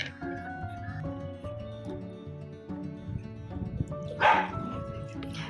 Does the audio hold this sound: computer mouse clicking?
no